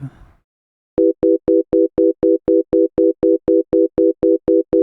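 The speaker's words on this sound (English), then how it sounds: "So we just want a sine wave." A pure synth sine wave tone from Ableton Operator pulses in a rapid, even stream of identical short beeps, clean and loud, after a brief bit of noise at the start.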